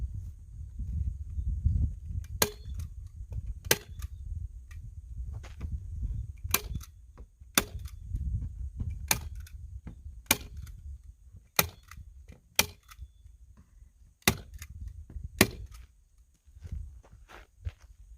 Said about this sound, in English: I'm going to shoot 2 slugs.